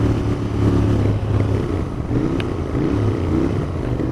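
A Royal Enfield Continental GT 650 motorcycle engine rumbles steadily up close, a throaty exhaust note with slight rises and falls in pitch.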